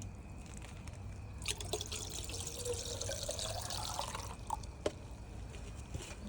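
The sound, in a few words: scooping and mixing lime water into water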